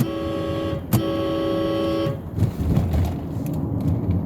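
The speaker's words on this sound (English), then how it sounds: "Hey Doug, I bought some aftermarket air horns. Listen to this." A loud, sustained multi-tone aftermarket air horn on a 1993 Lexus LS400 blares for about two seconds, then gives way to road and engine noise from inside the moving car.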